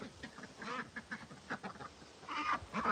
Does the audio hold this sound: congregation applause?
no